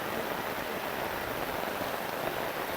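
Heavy monsoon rain pours onto a small Konkan stream, a dense, steady hiss of drops that holds even and unbroken throughout, with no voices.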